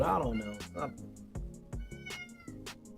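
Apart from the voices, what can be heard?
cat meowing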